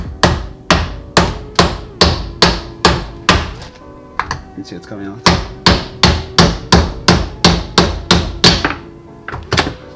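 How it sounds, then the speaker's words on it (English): Steady, loud hammer blows striking a metal bolt on a race car differential in a regular rhythm, about two per second, with a brief pause and a short spoken remark midway. "You get the hammer. Just give it a few knocks."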